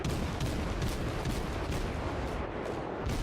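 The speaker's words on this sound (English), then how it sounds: "Just keep checking to make sure that I am firing on target" German cruiser guns fire in World of Warships, a dense, continuous rumble of heavy naval gunfire and booming blasts that fills the stretch with sustained loud roar.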